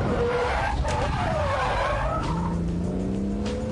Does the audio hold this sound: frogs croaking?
no